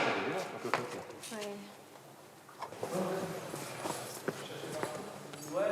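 Horse hooves clip-clop on hard ground in a few scattered, uneven steps, heard close and moderately loud beneath intermittent talking.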